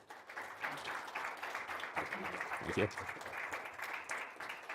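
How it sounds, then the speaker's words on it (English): Audience applause for a guest lecturer at the close of a talk on Hezbollah and Lebanon, a fairly faint steady patter of clapping running throughout, with a voice speaking briefly over it. "let's give a round of applause to the speaker"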